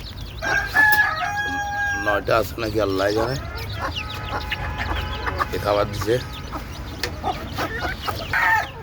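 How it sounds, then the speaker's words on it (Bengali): Chickens and their chicks cluck and cheep repeatedly at close range while feeding, mixed with an occasional rooster-like call, under steady conversational speech throughout. "এই যে দেখেন আমাদের মুরগির বাচ্চাগুলো"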